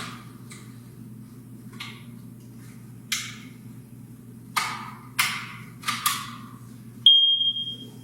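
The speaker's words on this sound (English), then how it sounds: "she's going to press the alarm button until the alarm no longer sounds" Several sharp clicks and taps as a battery is fitted and the test button pressed, then a smoke detector lets out one short, shrill high-pitched beep near the end.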